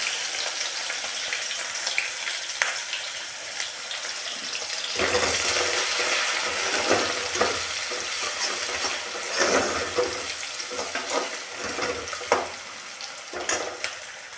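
Crushed garlic and onions frying in oil left over from cooking pakoras, a steady sizzle that swells louder when more is added, punctuated by stirring clinks and scrapes.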